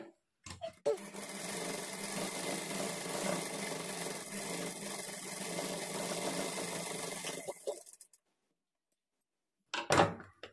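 A sewing machine runs steadily for about seven seconds while stitching along the border edge of a puff sleeve. It then stops, and after a pause there is a short burst of handling noise.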